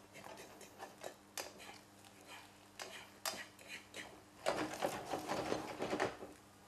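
Metal utensil scraping and clinking against a frying pan while stirring curry, in irregular bursts, growing busier and sizzling louder toward the end, no voices.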